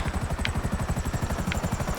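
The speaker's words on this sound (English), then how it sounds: "There's a police helicopter there." A police helicopter in a video game hovers close by, its rotor chopping in a steady, loud rhythmic thump with no talk over it.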